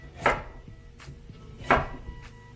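A knife chopping beets for a beet and rosemary soup: two sharp, close chops on a board about a second and a half apart, with softer knife taps between them in a quiet kitchen.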